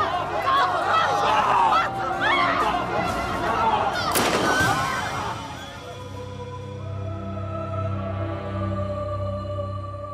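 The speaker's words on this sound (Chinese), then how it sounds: "你还真敢开枪啊！" In a Chinese drama scene, an angry crowd shouts and pushes forward until a single sharp gunshot cracks out at close range. The noise then drops to a quieter, tense hum.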